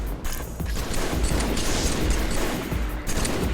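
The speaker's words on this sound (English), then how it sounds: "They are shooting at each other long distance this time." Sustained distant exchange of gunfire in Halo 3, a dense continuous crackle of overlapping shots with faint booms, steady in level throughout and with no voices over it.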